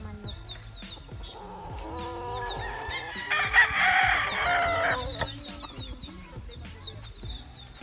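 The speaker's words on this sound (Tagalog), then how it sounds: "Oh, mga manok sa Black Mountain" Chickens clucking and a rooster crowing loudly in the middle, with scattered bird chirps around them in an open outdoor setting at a game farm.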